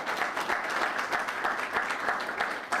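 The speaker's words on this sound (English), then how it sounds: "So can we give Diane a round of applause?" An audience at a proclamation ceremony honoring Diane Daniels applauds in a steady, dense burst of clapping that continues throughout at a consistent, fairly loud level.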